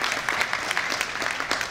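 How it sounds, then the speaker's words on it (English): Audience applause at a graduation and scholarship ceremony, a steady wash of many hands clapping for nearly two seconds at moderate loudness, with no talk over it. "Would you give him a huge round of applause?"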